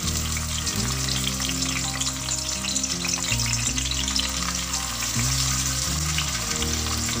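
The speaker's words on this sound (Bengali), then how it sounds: "এক একটা করে পমফ্রেট মাছ যেটা পাতায় মোড়া ছিল সেটা আমি তেলের মধ্যে দিয়ে দিচ্ছি" Banana-leaf-wrapped pomfret fish frying in hot oil over a medium flame, a steady, dense crackling sizzle that stays loud throughout with no talk.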